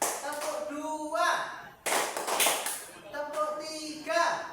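Schoolchildren in a classroom clapping in short rhythmic bursts between rounds of a spoken group chant, with a loud stretch of rapid claps in the middle.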